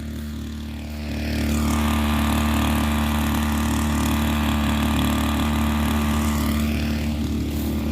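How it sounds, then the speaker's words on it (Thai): A 50 cc grass cutter engine rigged as a water pump revs up from a lower note to a steady, loud, buzzing high drone held for several seconds, close by and with no talk. "เร่งเครื่องแบบพอดีพอดีนะครับ"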